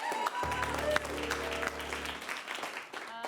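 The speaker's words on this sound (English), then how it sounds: "Round of applause for teachers!" Audience applause for teachers at an improv comedy show, a dense burst of clapping that swells over a held tone and then thins out, loud and close.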